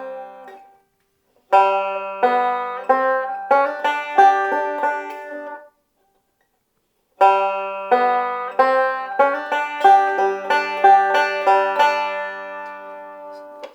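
A banjo picks a rolling pattern with a 2-3 hammer-on for When the Saints Go Marching In, bright plucked notes tumbling in quick runs across two phrases split by a pause, close and solo.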